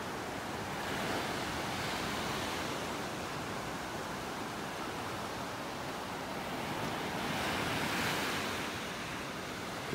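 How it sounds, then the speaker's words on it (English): Ocean waves breaking on a beach in North Naples, Florida, a continuous broad roar of surf with slow swells in loudness, some wind rumble, no talk. "Still got some waves out here."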